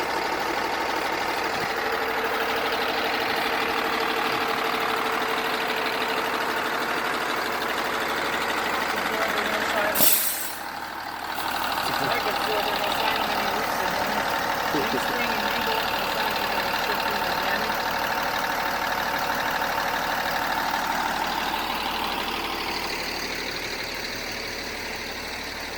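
A large school bus engine idles in a steady low rumble throughout, with a brief sharp click partway through and a voice talking over it.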